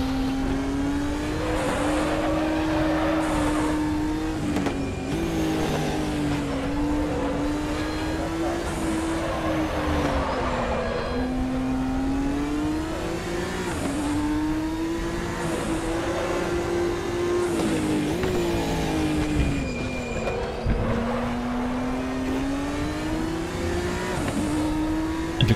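In RaceRoom Racing Experience, a race car engine wails steadily and rises and falls in pitch as it revs through the gears. It is loud and constant throughout, with some faint talk underneath.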